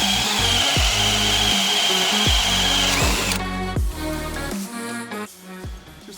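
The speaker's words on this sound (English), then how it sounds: "start out nice and easy and get the prongs to grab on the wood, and then just go ahead and drill" A power drill whirs and bogs down in repeated bursts as a pronged bit bores into hardwood, close and loud, with no talking.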